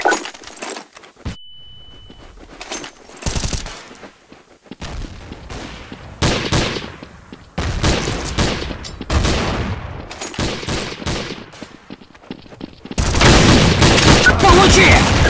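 Gunfire in the video game Counter-Strike: Source comes as sharp bursts of rapid shots and single cracks separated by brief gaps, with dense sustained firing at the end and game voices heard in between.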